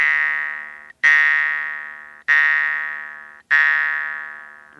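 A jaw harp's metal twanger is plucked four times at a slow, steady pace, each buzzing, twangy note ringing out and fading before the next, close and clear with no talking.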